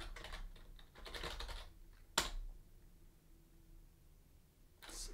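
Fast typing on a computer keyboard close to the microphone, bursts of rapid clicking keystrokes with pauses and one sharper key hit, faint and alone without talking.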